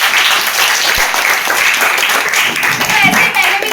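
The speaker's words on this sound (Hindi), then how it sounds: "आपके लिए ताली होनी चाहिए।" Seminar audience applauding loudly and steadily for the whole stretch, a dense wash of many hands clapping with a few voices mixed in.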